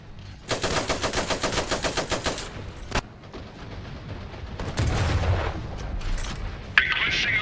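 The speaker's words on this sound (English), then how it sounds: "Shots fired." Rapid machine-gun bursts and heavier booms from the Iron Harvest strategy game, a loud rattling volley up front, then scattered shots, a sharp crack and lower blasts amid battle noise, with in-game unit voices.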